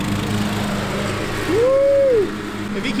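Riding lawn mower engine droning nearby, a steady loud hum that briefly rises in pitch and intensity for under a second before settling back.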